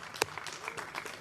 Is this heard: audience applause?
yes